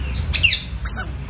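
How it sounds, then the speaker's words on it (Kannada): A parrot at Thrissur zoo in Kerala gives two or three short, harsh squawks close by, with a low outdoor rumble underneath. "ಫಸ್ಟ್ಗೆ ಇರೋದು ಗಿಳಿ"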